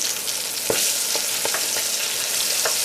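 Soft shell crabs frying in hot grease at 350 degrees, giving a dense, continuous sizzle and crackle close by, with a few sharper pops and stir clicks and no talking.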